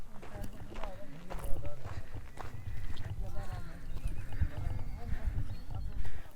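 Horses walk along a mountain trekking trail to Katora Lake from Jahaz Banda, giving steady hoof clip-clops and an occasional neigh beside a person talking over continuous outdoor noise.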